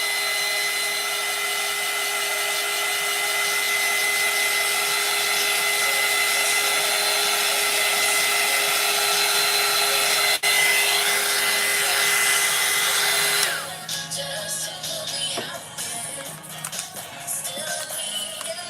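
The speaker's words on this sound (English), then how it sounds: "Blow dry it a little more." A hair dryer blows on a craft piece for a Halloween fairy garden, a loud, steady whooshing hum that runs for about thirteen seconds before cutting off, leaving quieter background rustling.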